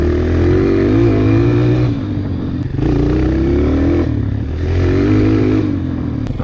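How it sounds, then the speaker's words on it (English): A 2003 Honda CRF230 dirt bike engine, jetting slightly off, revs loudly in repeated throttle blips that each surge and then sag and bog, with drops back toward idle between them and no talk. "it's still bogging when I whack open the throttle"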